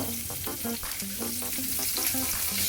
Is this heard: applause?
no